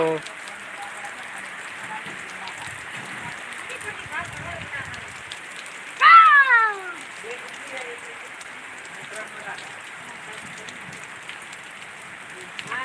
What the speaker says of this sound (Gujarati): પંદર મિનિટથી સારો વરસાદ ઘણો તો નથી અને માપનો વરસાદ વરસી રહ્યો છે